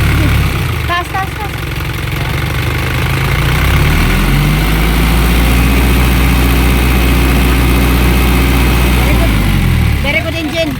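A Japan surplus diesel truck engine, an Isuzu Elf 4HG1 or Mitsubishi Canter 4M40, runs steadily up close with a deep rumble. It revs up in the middle and settles back to idle near the end. Voices talk faintly over it.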